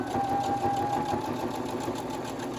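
A sewing machine runs steadily while stitching slowly through four layers of fabric, giving a continuous close mechanical whir with a fast, even needle rhythm.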